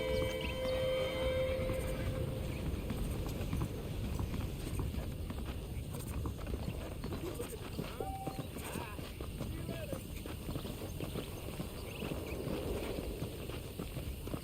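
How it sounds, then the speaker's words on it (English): Horse hooves clip-clop steadily across the ground in the Red Dead Redemption video game, with a brief whinny near the start and ambient background sound throughout. "The horses are saddled up over here."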